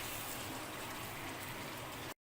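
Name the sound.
homemade korma masala frying in a pan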